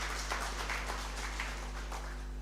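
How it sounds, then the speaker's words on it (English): An audience at an indigenous seeds and food harvest fair gives a short round of hand clapping, faint and somewhat distant over a low hum. "Another hand clap to Dr. Oulu."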